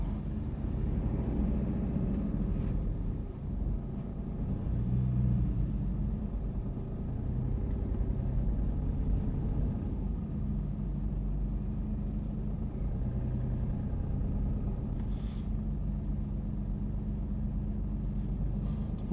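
Steady low car engine rumble from inside a vehicle pulling away in first gear, continuous and fairly loud, with a slight swell midway and no talking.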